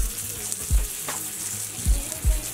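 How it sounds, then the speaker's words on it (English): Salt pork belly crisping in a pan, a faint steady sizzle broken by a few low thumps and bumps, with no voices. "what we have in front of us is salt pork or pork belly. And what we want to do is let this crisp up."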